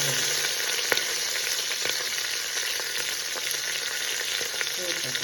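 Onions and a couple of bay leaves sautéing in a pan for brinji rice, a steady close sizzle and frying crackle throughout with occasional light stirring clicks and no talking.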